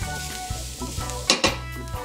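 Fish and bean panade filling sizzling in a non-stick pan, a steady close frying hiss broken by soft stirring scrapes and a couple of sharper utensil knocks on the pan.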